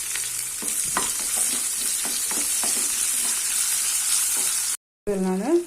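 Chopped large onions sizzle in a pan with popping mustard seeds for coconut milk rava upma, stirred with repeated scraping strokes, then a brief cut and a short burst of frying again.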